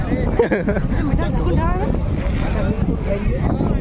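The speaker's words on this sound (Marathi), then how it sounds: "इथं वारा उठवून सुटलेला आहे हे बघू शकता" Strong wind sweeps across an outdoor temple pilgrimage fairground, a steady roaring rush buffeting the microphone with gusty swells, while people talk over it throughout.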